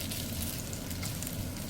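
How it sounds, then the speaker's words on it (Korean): Spaghetti being stir-fried in rendered bacon fat in a pan over residual heat for carbonara, giving a steady, close, broadband sizzle and crackle with no talking. "한번 남은 잔열로 이렇게 한번 볶아주시고요."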